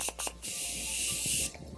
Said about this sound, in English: This is the Morphe setting spray